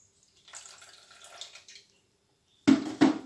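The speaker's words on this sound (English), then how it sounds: "So just add a little bit of water" Water trickles softly into a bowl of semolina flour for pasta dough, followed by two louder, closer splashy pours after a short silence.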